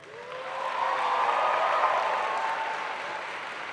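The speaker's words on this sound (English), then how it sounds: "I invite the members of the graduating class to reciprocate by applauding your family, friends, faculty, and staff" The graduating class at a university convocation ceremony applauds their families and staff, a large hall full of dense clapping that swells and holds steady, with a faint tonal hum underneath.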